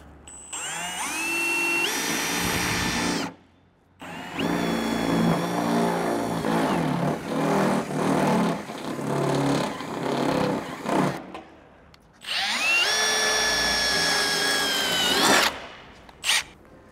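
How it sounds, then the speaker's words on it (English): A power drill whines loudly at close range in three long bursts, briefly pausing between them as it bores a large hole through a Ford Next Gen Ranger's body for a snorkel. "I also drill quite a big hole at the back here before cutting"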